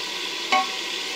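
Lentils go into a pan of frying spice masala, which gives off a steady, soft sizzling hiss. A single quick clink of a spoon sounds partway through.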